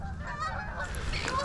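Geese honk repeatedly and fairly loudly in a dense, overlapping flock chorus over steady outdoor background noise during a duck hunting outing, with no talking.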